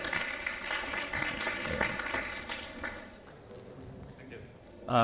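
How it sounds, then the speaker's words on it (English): A conference audience gives a round of applause, scattered and uneven claps that thin out and die away, followed by a sudden louder sound at the end. "Please give it a round of applause"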